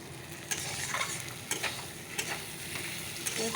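Fish curry with potato and onion frying with spices in a pan: a steady sizzle broken by a few scraping stirs of a spoon, close and clear, no talking.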